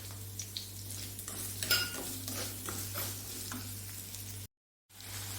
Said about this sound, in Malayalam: ചെറിയ ഉള്ളി, ഇഞ്ചി, വെളുത്തുള്ളിയും കൂടി ഇട്ട് കൊടുക്കാം. ഇതൊന്ന് വഴറ്റിയെടുക്കട്ടെ.